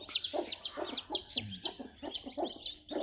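A native country hen clucks with her morning-hatched chicks, whose weak wings have not yet grown; repeated soft clucks mix with many high, thin chick peeps close by, steady and continuous throughout.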